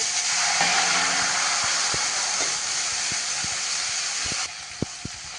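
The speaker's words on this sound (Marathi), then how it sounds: "थोडंसं पाणी घालते म्हणजे जळणार नाही तिखट" Water is poured into hot spiced oil tempering for a tomato saar curry, giving a loud, steady hiss that runs for about four and a half seconds and then cuts off, followed by a few sharp clinks.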